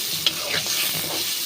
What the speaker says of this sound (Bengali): এখন আমি টমেটোগুলো দিয়ে দেবো, টমেটোগুলো মশলার সাথে ভালো করে কষিয়ে নেব।